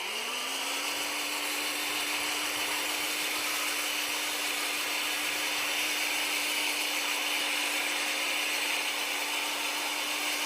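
Idech power rotary scissors, a motorized cordless trimming attachment, cutting along a live lawn edge, giving a steady, loud, continuous whirring motor drone with a constant buzzing tone throughout and no talking.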